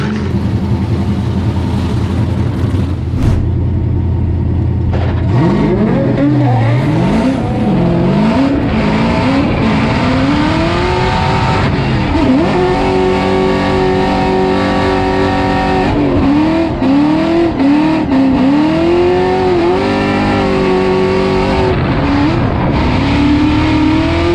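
A FormulaDrift drift car's loud engine revs hard and repeatedly during a qualifying run, with rising and falling sweeps over a steady roar that carries through close to the mic.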